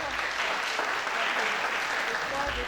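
Applause from the audience at a regional beauty pageant election in northern France fills the room with steady, dense clapping at moderate volume, with faint voices mixed underneath.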